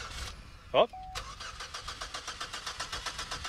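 A Chevrolet Equinox tries to start after stalling at the top of a dirt hill. There is a short burst of sound, then a steady, rhythmic cranking pulse of the starter that repeats evenly and stays close and fairly loud.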